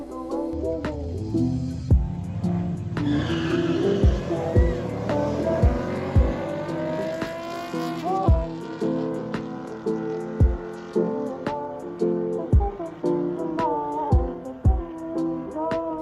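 A V6 Camaro drag races a supercharged SRT8 Jeep: loud engine roar climbing in pitch, with repeated sharp cracks and bangs punctuating the run, close by and without talk.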